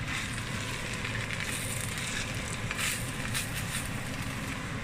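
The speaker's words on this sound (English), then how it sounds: "And you can hear the sizzling." Steady, close sizzling of Indonesian-style fried rice (nasi goreng) in a hot pan, a continuous crackling hiss with small pops throughout.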